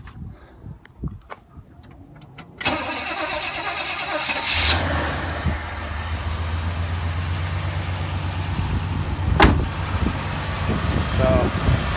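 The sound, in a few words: Chevelle engine starting up for first fire up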